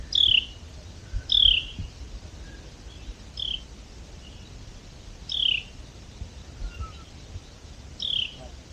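Birds give short, sharp chirping calls at a wooded hammock campsite, several separate bursts spaced a second or two apart over quiet outdoor ambience.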